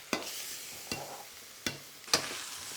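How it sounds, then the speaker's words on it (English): Prawns sizzle in a wok for Hokkien mee while a utensil stirs and scrapes them, four sharp metallic strokes spaced evenly over a soft frying hiss, with no talking. "I'm pretty much just cooking them on this side of the wok."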